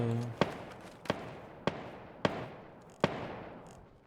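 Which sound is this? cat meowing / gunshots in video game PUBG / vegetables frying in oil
gunshots in video game PUBG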